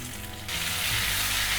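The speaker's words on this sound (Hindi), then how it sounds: "टमाटर को भी 2-3 मिनट के लिए भूनेंगे" Chopped tomatoes added to onions in a hot pan, a sudden loud sizzle bursting in after a quieter start and holding steady as the tomatoes fry, close and without talk.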